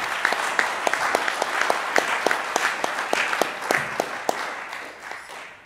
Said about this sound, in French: je voudrais qu'on commence par applaudir tous les militants qui ont organisé cette réunion ce soir.